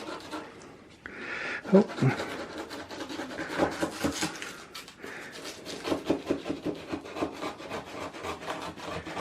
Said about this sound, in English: I'm going to cut it in the tray and then take the pieces out.